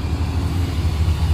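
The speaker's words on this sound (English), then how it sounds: "It's kind of loud with all the traffic and stuff like that." Steady low road traffic rumble with passing cars and engines, close and continuous, beside a parked 2001 Chevrolet Silverado takuache build.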